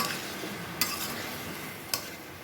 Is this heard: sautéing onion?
yes